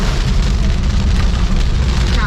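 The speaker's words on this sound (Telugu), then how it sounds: "చాలా పెద్దగా పడుతుంది వాన అయితే." Heavy rain pours down around a street on the way toward Kuah town, Langkawi, Malaysia, a loud, dense, unbroken hiss filling the scene throughout.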